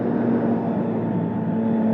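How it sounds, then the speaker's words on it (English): A Triumph Street Triple 675 motorcycle engine, ridden in third gear at moderate revs, drones steadily and loudly without a break, a dense even roar with a firm low hum running underneath. "What a beautiful engine noise."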